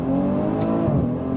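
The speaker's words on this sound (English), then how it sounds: "I'm going to go ahead and do a 0 to 60 here with the paddle shifters" A 2017 Maserati Levante S pulls hard from 0 to 60 on paddle shifters, its engine note a steady, loud, rising drone that holds near and continuous throughout with no talk over it.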